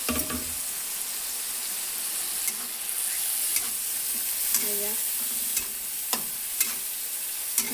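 Spices for a fish curry sizzle steadily in a hot pan, a continuous hiss with occasional scraping clicks of a spoon stirring.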